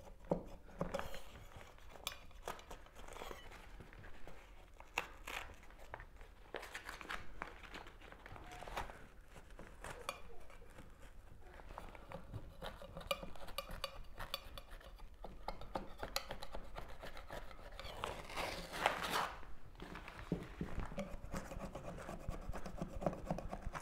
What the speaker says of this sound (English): you're going to take your scraping tool and slowly pick up on the area and begin to scrape